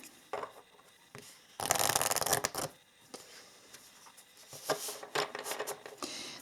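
Spellcasting oracle cards are shuffled by hand, soft papery riffles and slides coming in short bursts, with one longer, louder flurry in the middle, close and quiet with no talking.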